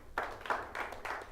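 At a live seminar, four separate hand claps ring out in an uneven rhythm, soft and somewhat distant against a quiet room.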